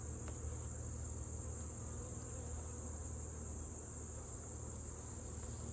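A steady, low hum comes from a honey bee hive opened in late summer, with the frames full of brood and the bees droning continuously at a moderate level and no voices over it.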